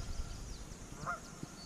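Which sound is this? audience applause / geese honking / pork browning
geese honking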